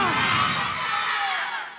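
A crowd at a panthi devotional gathering shouts the chant Jai Jai Satnam together, loud and sustained, a dense wall of mixed voices that fades slightly at the end.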